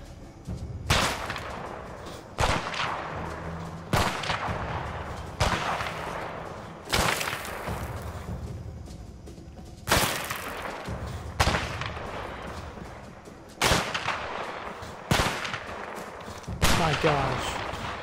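Sniper rifle shots ring out in the A Way Out video game, a string of sharp, loud cracks spaced about every one to two seconds, each with a short rumbling tail, while players talk between them.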